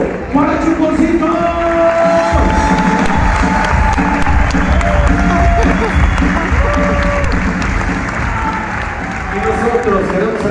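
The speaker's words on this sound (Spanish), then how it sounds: "Y que se escuche fuerte el aplauso." Loud, sustained applause and cheering from a live audience at a Chuponcito show, a dense roar of clapping and shouting that holds steady throughout, with voices and music tones mixed in.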